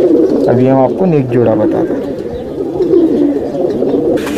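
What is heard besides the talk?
Shahjahanpuri pigeons cooing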